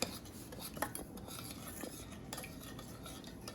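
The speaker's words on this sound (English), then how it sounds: "Make it a little wet, and then I'm gonna mix that kind of up." A spoon stirs a wet food mixture in a bowl, soft close scraping and clinking in quick irregular strokes at low volume, with no talking.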